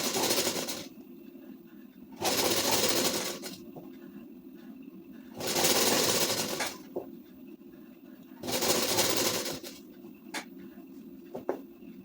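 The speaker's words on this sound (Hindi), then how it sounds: "फिर सिलाई चलाएंगे इस तरीके से" A sewing machine stitching a ladies' suit runs in four short bursts of roughly a second each, separated by quieter pauses while the fabric is adjusted. No one talks.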